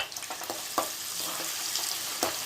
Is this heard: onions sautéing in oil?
yes